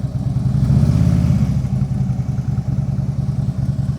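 A motorcycle engine rumbling low and steady, swelling briefly as the throttle rises while pulling out of a driveway, then settling into an even, close putter.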